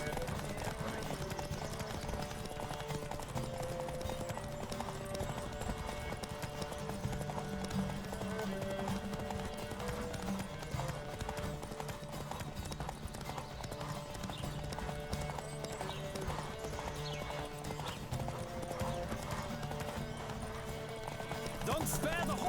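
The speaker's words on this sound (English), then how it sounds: "Don't spare the horse!" A horse gallops in The Witcher 3, with rapid rhythmic hoofbeats running continuously over a game music bed, an occasional whinny, and voices speaking between the hooves.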